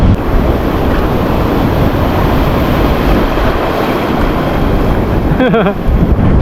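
Big sea waves and strong wind buffet a small fishing boat at sea, a loud continuous roar of gusts and surging water across the microphone, with a brief mechanical whine near the end.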